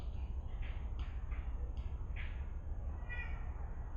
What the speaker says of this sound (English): And then my cat wants to come in.